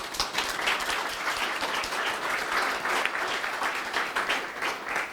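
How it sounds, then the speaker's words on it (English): Steady, dense applause from a conference audience at a digital preservation event, many hands clapping evenly and continuously at moderate volume throughout, with no talking over it. "Another round of applause."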